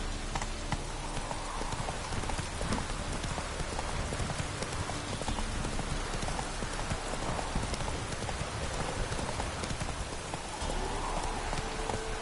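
A horse gallops in The Witcher 3: Wild Hunt, its hooves beating a steady, continuous clip-clop rhythm over a constant wash of rain.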